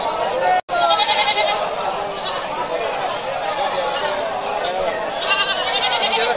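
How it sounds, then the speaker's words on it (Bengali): Native breed goats at a livestock market bleat loudly and repeatedly, overlapping calls close by over a crowd's chatter. "সম্পূর্ণ দেশি জাতের ছাগল, খাঁটি দেশি।"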